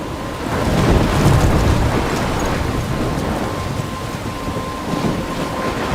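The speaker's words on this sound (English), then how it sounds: "I'm trapped in a storm?" Stormy weather in the Life Is Strange video game, with a steady roar of rain and wind and low rumbling like thunder, loud and continuous throughout with no talking.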